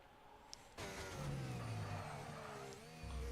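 A Formula 1 car in F1 25 pulls out of the Bahrain pit lane, its engine note rising in a steady, fairly loud drone with a higher whine, alone and without voices.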